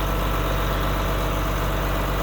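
A John Deere 4250 tractor engine idles after a hard cold start, a steady low diesel rumble with a rough, uneven lope held at constant loudness throughout, close by with no talking.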